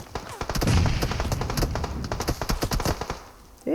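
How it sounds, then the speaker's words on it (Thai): Rapid bursts of gunfire in the mobile battle-royale game PUBG Mobile, a dense run of sharp shots filling the whole stretch, loud and close, with a brief lull near the end. "ยิงมาจากตรงไหนเนี่ย"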